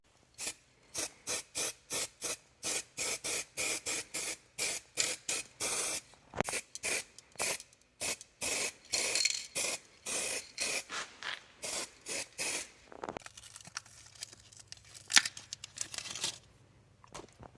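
Spray paint hisses onto Cadillac brake parts for a second coat, a rapid series of short, close bursts repeating steadily, followed by softer crinkling and handling noises near the end.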